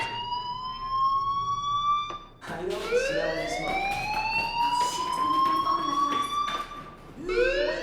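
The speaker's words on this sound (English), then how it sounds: "do you hear that fire alarm? That means you should be outside." A fire alarm in the video game Life is Strange rings steadily in a loud electronic wail, rising in pitch after a short break and looping throughout.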